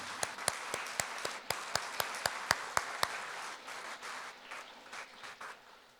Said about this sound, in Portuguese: Vamos dar uma salva de palmas para a Denise.